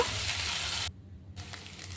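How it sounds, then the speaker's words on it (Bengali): Steady sizzling hiss of ginger garlic paste frying in butter in a pan, cutting out briefly for a moment before resuming, with no voices. "আদা রসুন বাটা এগুলো, আদা রসুনটা একটু ভেজে নিব।"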